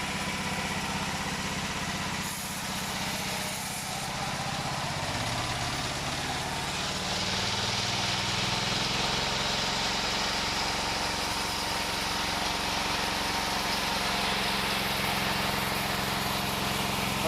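A motorized wood saw engine runs steadily for a long stretch, a constant mid-level drone whose pitch shifts slightly as the load changes, with no voices.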